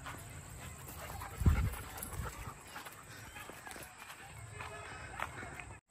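A German Shepherd races along outdoors, its quick panting breaths and running paws close by, with a louder thump of movement early on over a constant background hiss.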